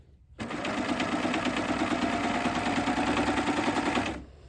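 A Babylock Acclaim serger stitches binding along the edge of a quilt, a rapid steady mechanical whirr that starts abruptly, runs evenly at close range for about four seconds, then stops.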